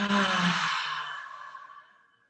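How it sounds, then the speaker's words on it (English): One big, deep breath is let out as a long, breathy exhale that starts strong and slowly fades away to nothing, heard close and alone. "Big breath inhaling. Big exhale."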